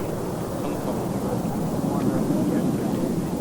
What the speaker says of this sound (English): the Super Pitts S1S taxiing out to the north